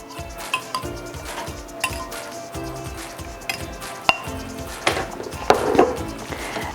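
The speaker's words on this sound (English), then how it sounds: "we're gonna get that mixed into our meat mixture" Spoon stirring Big Mac sauce into a ground meat mixture in a bowl for a tater tot casserole, giving soft repeated scraping and wet mixing strokes with a few sharper clinks against the bowl.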